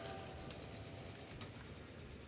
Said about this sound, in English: this train is on its way back